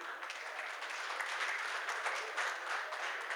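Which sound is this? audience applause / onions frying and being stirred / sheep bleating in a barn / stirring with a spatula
audience applause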